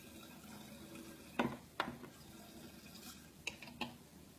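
Liquid, about 15 ml of a poultry remedy, is added to 3 liters of water with a few faint splashes and drips close by, spaced over a few seconds in a quiet room.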